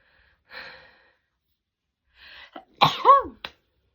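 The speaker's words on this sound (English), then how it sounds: "I think I'm going to sneeze." A single sneeze near the mic, preceded by a few breathy inhales building up to it, ending with a short sniff.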